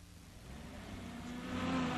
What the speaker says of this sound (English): A jeep with ammunition trailer comes ashore